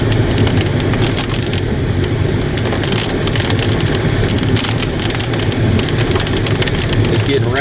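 Dense, loud hiss of heavy rain pours steadily throughout, with a constant low rumble underneath, during a tornado in Dodge City, Kansas.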